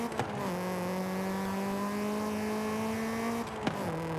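A B16-swapped early-generation Honda CRX with a 1.5-liter front-wheel-drive setup holds a steady, buzzing engine drone while cruising a volcano road in Forza Horizon 5, with a brief blip and dip in pitch near the end.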